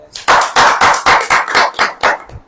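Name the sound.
congregation clapping hands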